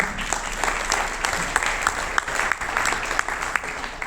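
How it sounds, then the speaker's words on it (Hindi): Loud, sustained applause from an audience at a Kangen Water seminar, dense clapping with sharper individual claps standing out, continuing steadily throughout. "जोरदार तालियां आपके लिए"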